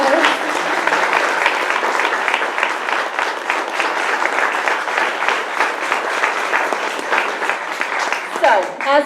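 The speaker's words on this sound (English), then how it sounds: "Let's give our writers another round of applause." Sustained audience applause for writers at a fall reading event, dense even clapping filling the room at close range, with a voice starting to speak near the end.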